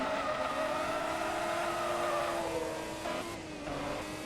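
In Forza Motorsport 2, a 700HP race car in the K&N Filters Invitational roars loud and sustained, its pitch climbing slowly before dipping near the end, with a faint squeal of tires beneath.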